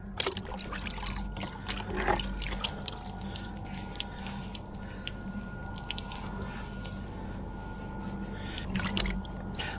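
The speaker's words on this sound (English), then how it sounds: "I'm just going to wipe that off with some clean water." Wet wiping of old tarnished chrome with a cloth and clean water, heard as soft squishing and dripping rubs that continue steadily through the stretch with small bursts of handling noise, close to the microphone.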